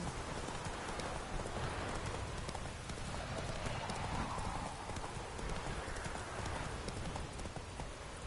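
The horse Roach in The Witcher 3: Wild Hunt gallops with steady, continuous hoofbeats under a dense wash of rain-like noise at a low, even level.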